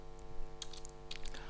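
Keys tapped on a computer keyboard in two short bursts of clicks over a steady mains hum while entering a spreadsheet formula.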